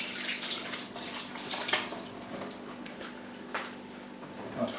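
Water poured over a potted plant whose soil and leaves are dusted with charcoal, a steady splashing pour with a few louder gushes, close by and alone.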